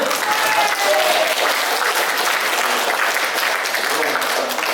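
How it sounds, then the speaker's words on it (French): Steady, loud clapping from the audience at a seniors' lunch in Colombier, filling the room evenly with no break, while a voice faintly carries over it. "Et plus fort les applaudissements là, on n'entend rien"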